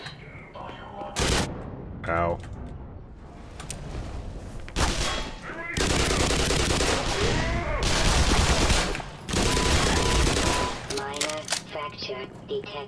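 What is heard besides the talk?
shotgun gunfire in the video game Black Mesa: Xen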